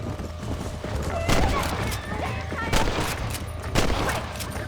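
Gunfire at coyotes on a ranch in the Red Dead Redemption video game comes as a few loud, separate shots over a busy background of hooves and game ambience.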